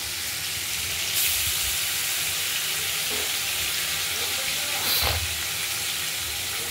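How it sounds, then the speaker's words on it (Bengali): Pieces of boal fish rubbed with salt and turmeric sizzle steadily in oil in a kadai, a close continuous hiss with a couple of brief louder crackles, while a voice speaks faintly underneath. "বোয়াল মাছ কেটে নুন হলুদ মাখিয়ে আমরা কড়াইতে ভাজা করতে দেখতেই পাচ্ছেন"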